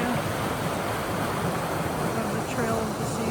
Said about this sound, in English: Here's the creek that goes through the park area